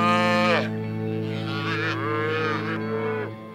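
On a Colorado cattle ranch at branding time, a cow gives a single long, loud moo that starts strong and wavers in pitch over a few seconds, close to the microphone with no talking.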